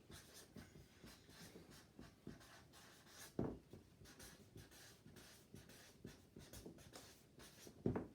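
A pen writes a fraction answer on paper, faint scratchy strokes in quick irregular bursts, quiet and close, with no voices.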